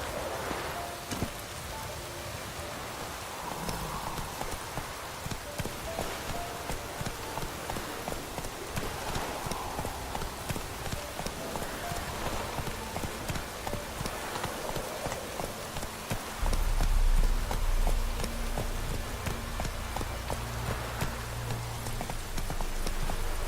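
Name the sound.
horse Roach's hooves clip-clopping in rain, The Witcher 3 video game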